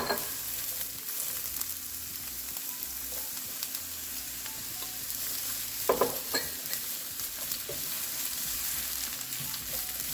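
Peppers stir-fried in hot oil for a vegetable stir fry, a steady close sizzle with soft scraping and clacks of the utensil, a few louder stirring knocks near the middle.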